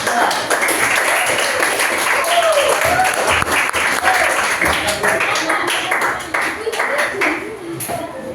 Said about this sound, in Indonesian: Kita kasih aplaus yang terakhir untuk kelompok kali ini